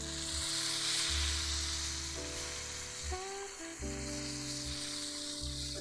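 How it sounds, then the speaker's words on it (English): Smash burgers sizzle on a griddle, a steady close fry hiss layered under loud tonal hum and shifting mechanical drones, with a few brief bumps partway through. "Let them burgers heat up before we hop in for the flip number two."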